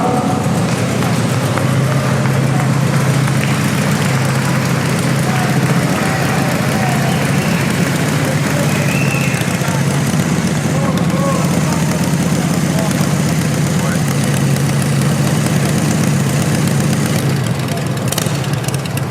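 A custom motorcycle at a bike-build awards event idles with a loud, steady low rumble, while people talk over it in the background.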